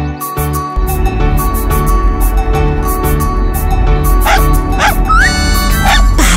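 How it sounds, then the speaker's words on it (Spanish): A puppy barks and yips repeatedly out on a street, sharp high calls over a steady loud background of music and bustle in a children's cartoon story. "Hay un cachorro allí en la calle."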